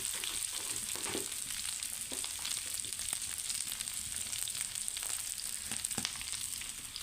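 Broken potatoes fry in oil with a little salt and turmeric, giving a steady, close sizzle with scattered crackles and pops and no talking.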